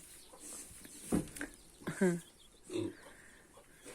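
A pig grunts and snorts in its pen, a few close, rough grunts spaced irregularly, with a voice faintly present in the background.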